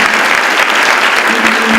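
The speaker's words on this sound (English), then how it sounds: "So I'd like to give them a round of applause." A hall of about 400 students applauding, loud, close, sustained clapping filling the space with no talk over it.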